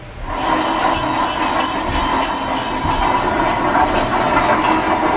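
A loud, continuous train rumble with hissing steam, steady and close throughout, no voices, as a sound effect in a live radio play.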